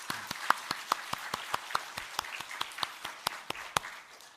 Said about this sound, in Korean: 우리 찬양대원들을 위해서 박수 한번 했으면 좋겠어요.